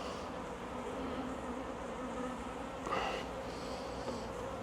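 Honey bees hum in a beehive opened for inspection, a dense, even buzz close by with a brief louder swell near the end.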